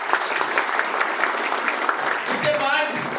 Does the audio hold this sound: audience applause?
yes